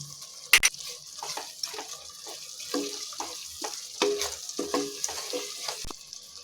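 Mutton biryani masala with turmeric, chilli and coriander powders and ground cinnamon, clove and cardamom cooking in a pan, a soft sizzle broken by irregular clinks and scrapes of a spoon, no talk.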